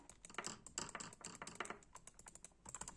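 Sharp clicks from a repaired Logitech G300s computer mouse under test, fired in quick irregular bursts, close and crisp, with no talking.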